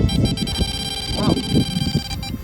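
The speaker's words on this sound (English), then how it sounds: "Suddenly, my ghost meter started to beep." A handheld ghost meter beeps outside a lighthouse at night, thin electronic tones sitting under murmuring voices and background rustle.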